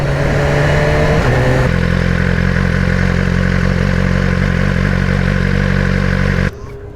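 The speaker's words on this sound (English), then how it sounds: "I hear an exhaust." A motorcycle exhaust drones loud and close with a steady, throbbing engine note that shifts pitch slightly before cutting off sharply near the end.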